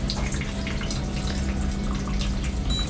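A dishwasher running its drain cycle gives a steady watery rush and trickle over a low pump hum, continuous and close, with no talking.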